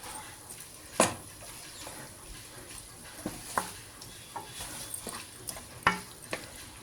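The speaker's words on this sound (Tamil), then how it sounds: "எண்ணெயிலேயே நல்லா வதக்கணும். செம்மையாக வதக்கணும், செவக்கிற அளவுக்கு." Ingredients for a mutton dish fry in oil with a soft, steady sizzle, while a spoon scrapes and taps the pan in scattered clicks and knocks.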